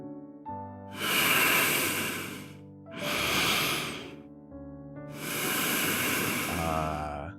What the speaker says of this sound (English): Loud breathing.